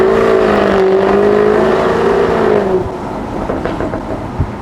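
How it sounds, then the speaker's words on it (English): A Jaguar F-Type R's V8 exhaust howls loudly as the car accelerates with the roof down, the engine note climbing in pitch, then dropping to a rumbling burble as it eases off. "make absolutely the most of the exhaust sound when the roof is down and it's howling down the road"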